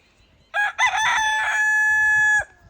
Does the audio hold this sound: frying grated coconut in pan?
no